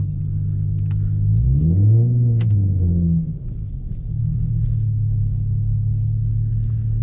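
A car engine revs on snow with traction control switched off, its pitch rising and falling in a loud, close surge, then settling into a steady idle drone.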